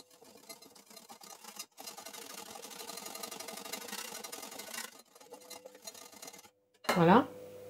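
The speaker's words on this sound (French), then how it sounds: "Je vais y ajouter le sucre en poudre et je vais venir fouetter le tout." Eggs and caster sugar are whisked in a mixing bowl, a busy scraping, clinking rattle with a couple of short pauses, fairly close, ending in a brief burst of speech.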